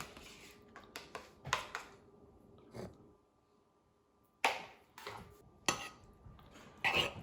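A spoon scraping and clinking against a pot of thick chili with sour cream and cheese, a series of quiet, irregular metallic knocks and scrapes separated by short pauses, close by with no voices.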